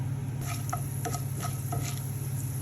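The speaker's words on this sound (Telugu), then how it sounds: "కొంచెం మినప్పప్పు కొద్దిగా పచ్చెనపప్పు ఇవన్నీ వేసుకొని ఒక వన్ మినిట్ పాటు వేగనివ్వాలి" Urad dal and chana dal frying in hot oil for an okra fry, a steady close sizzle with light stirring clicks and scrapes in the pan throughout.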